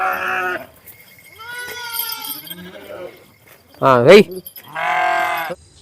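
Flock of sheep and lambs on a Telangana farm, several distinct bleats one after another, some near and loud, with a short rough cry near the middle and quieter gaps of farmyard noise between.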